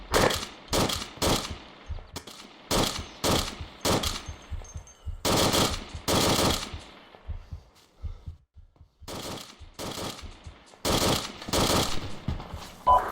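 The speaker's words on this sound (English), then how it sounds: "You should shoot out the tires" Bursts of automatic gunfire in a video game, shooting at the tires of a UAZ vehicle. Loud, close, rapid rattling volleys come in repeated bursts separated by short pauses.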